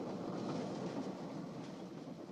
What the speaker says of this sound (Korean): 그렇게 기차에서 내린 고진은 뜻밖의 사고를 당하며 머리까지 다치게 됩니다.